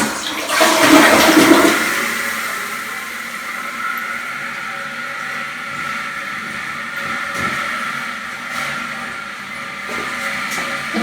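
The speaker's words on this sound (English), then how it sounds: "we're going to give it a flush and see if anything leaks out from under the bowl" A newly installed toilet is flushed, opening with a loud rushing whoosh of water for about two seconds, then settling into a long, steady hiss as the tank refills, with no talk.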